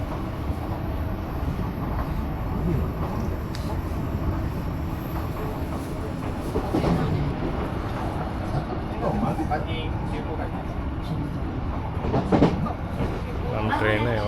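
A passenger train in Japan runs from Machida via Fujisawa toward Kamakura, giving a continuous low rumble with occasional clicks of wheels on the track and faint voices inside the carriage.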